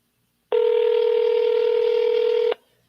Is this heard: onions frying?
no